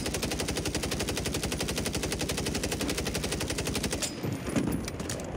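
Rapid automatic gunfire from Call of Duty Warzone rattles in a sustained, evenly paced burst for several seconds, loud and close, then breaks into scattered shots and a brief thump near the end.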